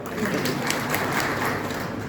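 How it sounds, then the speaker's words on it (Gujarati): A crowd at an election gathering in Amreli claps together in a dense, steady burst of applause lasting a couple of seconds, heard up close with murmuring voices mixed into the clapping. "ફરીથી તાળી પાડો"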